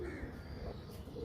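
A pigeon coos softly in a loft, a low, faint, rounded call over a quiet background.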